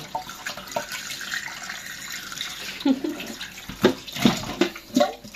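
Tap water running while a flatfish is rinsed and cleaned, a steady hiss of flow broken by splashes and irregular knocks of handling in a sink, with no talk.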